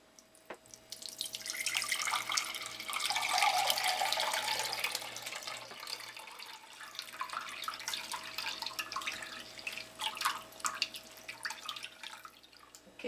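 Grated coconut is squeezed by hand to strain out coconut milk, giving close, wet dripping and trickling that swells and fades as the liquid runs out into a bowl, with no voices.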